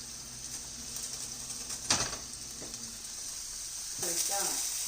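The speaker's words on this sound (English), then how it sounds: "There's the sizzle." Chicken sizzles in a hot frying pan during home cooking, a steady hiss with brief crackling bursts, moderately loud throughout and heard alone without talk.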